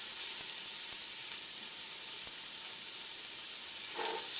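Diced onions and carrots sizzle steadily in hot olive oil in a home kitchen pan, a constant broadband hiss held at even loudness throughout, with a faint utensil tap near the end.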